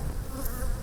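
Honey bees buzz steadily inside a man-made wooden hive box, a dense, continuous close-up drone with no pauses.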